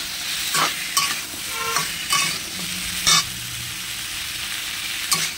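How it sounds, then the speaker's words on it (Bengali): Fish curry with ridge gourd sizzles in a pan while a spatula scrapes through it in about half a dozen sharp stirring strokes, close and clear with no talking. "একটু ঢাকা দিয়ে ভাজছি যাতে সিদ্ধটাও হয়ে যায়"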